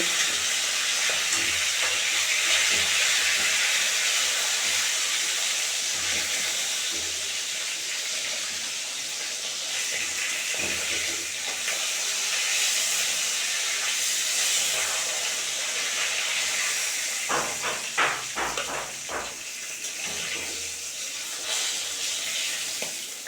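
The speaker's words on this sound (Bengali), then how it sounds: "এটাতে মাছ সবগুলো ভেজে নেব" Fish frying in a pan of oil while cooking a fish curry, a steady loud sizzling hiss that runs throughout, with a few brief clattering knocks near the end.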